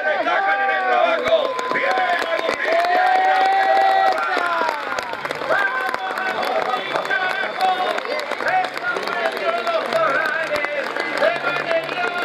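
Crowd clapping and cheering at a rodeo bronc-riding event in Urdinarrain, Entre Ríos, a steady spread-out applause from the stands under an announcer's continuous talk.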